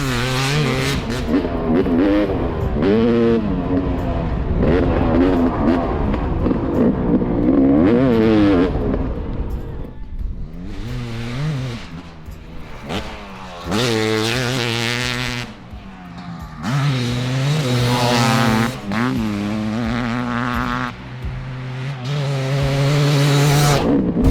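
Yamaha YZ500 two-stroke 500cc motocross bike on a hot lap, its engine loud and close, revving up and down through the gears in rising and falling surges with a few short lulls between bursts.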